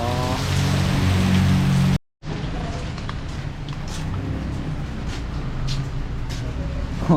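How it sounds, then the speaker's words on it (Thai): Rain falling outside at a Kimberley Street night market in Penang, a steady wash of hiss under a low traffic rumble, broken by a short cut; voices are not clearly heard. "ฝนตกข้างนอก"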